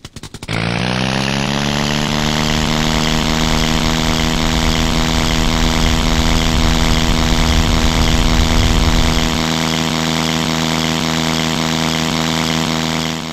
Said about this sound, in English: Let's power up our Mercedes D3A inline